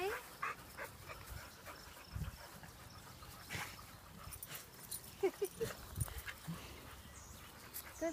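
Several dogs, including a small Chihuahua, whimper, yip and bark in short scattered bursts, some close and some farther off, over a busy background of other dogs.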